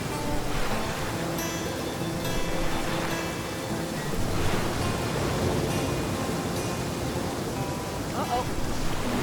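Rushing river rapids in the survival game The Flame in the Flood roar as a steady broadband wash of water, loud and continuous, with a few faint game sounds.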